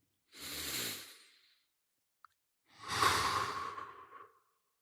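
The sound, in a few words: people taking a deep breath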